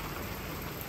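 Heavy rain drumming steadily on a house roof during a strong downpour, a dense continuous hiss and patter with no pauses, fairly loud and close.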